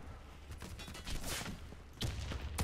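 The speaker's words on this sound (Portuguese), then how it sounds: "Tô levando tiro, tô levando tiro." Gunfire in the first-person shooter Warface, with a run of sharp, loud shot bursts spread through the clip and a heavier cluster near the end, no talking.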